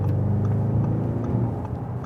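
An Audi RS6 Avant Performance with a 605 hp V8 given a brief blip of throttle while driving, a close, loud engine rumble that swells and eases under road noise, with no talking.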